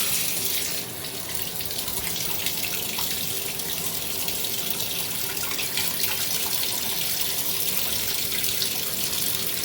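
Water pours steadily from a Delta single-knob shower and tub faucet, a loud continuous hiss and splash that stays even throughout with no talking.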